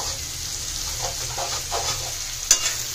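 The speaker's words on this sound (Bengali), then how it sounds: "পেঁয়াজটা ভাজা হচ্ছে" Onions frying in a pan, a steady close sizzle with soft stirring movements and one brief sharp clink near the end.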